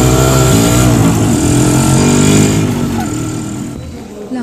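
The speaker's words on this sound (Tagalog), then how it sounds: "Sakay na kami ng tricycle." Motorcycle-with-sidecar tricycle ride through traffic on Quezon Avenue, a loud continuous engine drone with rumbling low tones and steady road noise, easing slightly toward the end.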